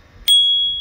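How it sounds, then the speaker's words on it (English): A single bright ding from a bicycle bell mounted on a 2020 GT Zaskar 29er hardtail mountain bike, struck once and ringing out in a clear, sustained tone that slowly fades. "the other mod I did is I installed a bell"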